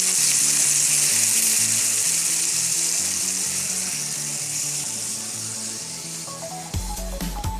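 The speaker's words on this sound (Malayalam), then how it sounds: "ഫുൾ ഫ്ലെയിമിൽ വെച്ചിട്ട് നമ്മളിതൊരു 2 മിനിറ്റ് ഒന്ന് റോസ്റ്റ് ആവാൻ വേണ്ടിയിട്ട് വെയിറ്റ് ചെയ്യാം" Pineapple pieces roast in coconut oil in a pan over a full flame, giving a steady, loud sizzle throughout with light music underneath and a few clatters near the end.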